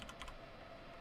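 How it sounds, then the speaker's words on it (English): Computer keys being mashed, a quick cluster of clicky taps near the start and a few more around the first fifth of a second, close and fairly quiet over a soft steady hum. "Mashing the keys,"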